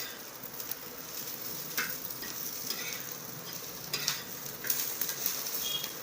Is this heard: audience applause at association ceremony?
no